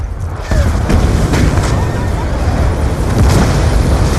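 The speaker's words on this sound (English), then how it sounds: "So activate your mortar." Mortar rounds fire and explode in the video game Black Ops II, dense rumbling booms and blasts layered over constant battle noise, loud and close throughout.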